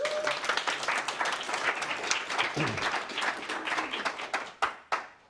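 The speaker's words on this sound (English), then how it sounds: "Round of applause for Jen, please." An audience claps for a volunteer at a public speaking skills session, a short burst of applause that thins into a few scattered, distinct claps.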